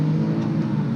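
Porsche 997 Turbo with a manual gearbox pulls hard onto a highway, its engine a steady, loud, close low drone with a continuous broadband roar and no voices.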